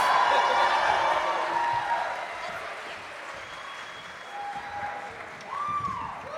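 Convention crowd at a Red Power Rangers panel applauding and cheering, a dense, loud wash of clapping that slowly thins, with scattered whoops and a shouted voice over the noise.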